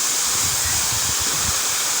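Shiare Waterfalls in Ghana pours in a loud, constant roar of falling water, broad and hissing, with no voices heard over it.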